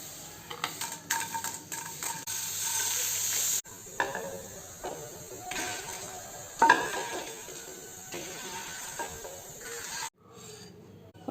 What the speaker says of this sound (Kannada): ಇದನ್ನೀಗ ಮೀಡಿಯಮ್ ಫ್ಲೇಮಲ್ಲಿ ಫ್ರೈ ಮಾಡ್ಕೊಳ್ತಾ ಇದ್ದೇನೆ.